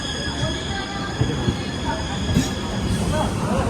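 A train rumbles and rattles along steadily, wheels squealing faintly at times, with continuous rolling noise and no clear talk.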